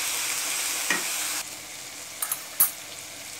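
Green onions fry in a pan with a steady, bright sizzle, broken by a few close scraping stirs and clinks of the utensil against the pan.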